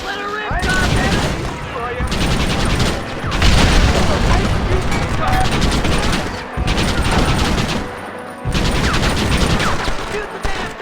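Sustained bursts of gunfire in a Red Dead Redemption shootout, loud and dense with brief pauses between volleys, mixed with shouting voices and clattering mechanical noise.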